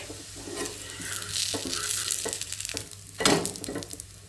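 Oil-smeared rice roti (yenne rotti) crisping on a dry griddle pan, giving a steady close sizzle and crackle with a few louder spatters, no talking.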